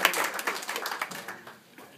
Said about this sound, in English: Cheer for the students!